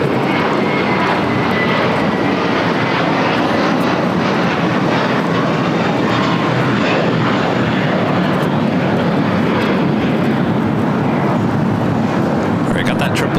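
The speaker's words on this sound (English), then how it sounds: "got that 777 freighter lining up for a south side at takeoff" At LAX, a Boeing 777 freighter jet lines up for takeoff, its engines a loud, steady, broad roar that fills the whole stretch without let-up, with voices partly buried under it.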